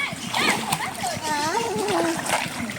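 A child swims and splashes in water at an outdoor washing spot, with repeated close splashes and sloshing under lively children's and adults' voices.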